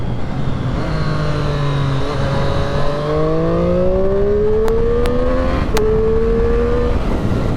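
A Triumph Street Triple RS motorcycle engine accelerating hard through the gears, its pitch sweeping steadily upward with brief dips at each shift, loud and close throughout with no talking.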